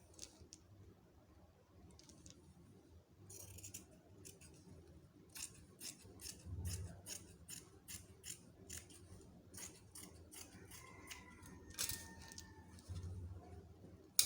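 Scissors snipping through swimsuit fabric to cut out back and front bikini pattern pieces, a run of close, quick crisp cuts with soft rustles and brief pauses.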